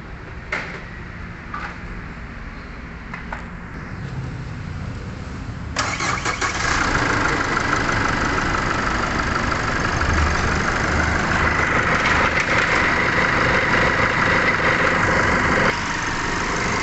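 A Chevrolet Trailblazer engine cranks and catches at about six seconds, then settles into a steady, loud idle that runs until near the end. The bay has just had its alternator pulley replaced. A few faint clicks come before the start.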